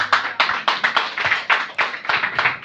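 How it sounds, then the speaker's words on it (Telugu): Rhythmic, loud clapping from a church congregation during a Telugu sermon, sharp repeated hand claps in a steady beat with no talking. "ఇప్పుడు గట్టిగా చప్పట్లు కొట్ట"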